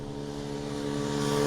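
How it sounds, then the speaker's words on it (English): A propeller airplane passes low overhead on its landing approach near a Jamaican coastal road, a steady droning engine hum that grows gradually louder across the moment, with no talking. "Oh, look at the plane"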